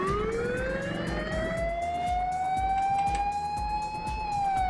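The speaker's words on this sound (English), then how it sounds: "is going to give us our sirens" A loud police car siren in the video game Trailmakers wails continuously, its pitch sweeping slowly upward, close and dominant over a low engine rumble.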